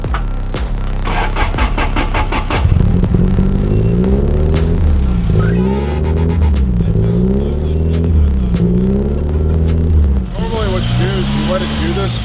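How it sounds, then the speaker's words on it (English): A Nissan 240 car engine idles and revs in repeated rising and falling throbs, loud and close throughout. "Today, we finally get to hear Ian's 240."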